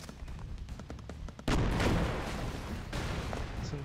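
Gunfire and explosions in the video game Broforce, rapid crackling shots and a sudden loud burst of booming blasts that keeps rumbling, moderately loud.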